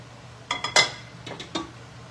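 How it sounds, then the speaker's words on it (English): Ingredients for crunchy garlic ramen tumble into a cooking pot: a few quick clinks and taps, then a brief pause and two or three more light knocks, close and moderately loud with no talking. "And then we're just dumping that right into the pot"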